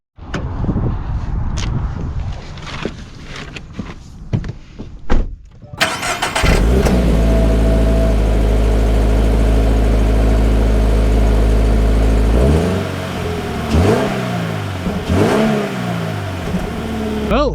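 A 2025 Toyota 86 Hakone Edition sports car starts with a few clicks and rustles, its engine then catching into a loud steady idle before revving through several rising and falling pulls, recorded close up.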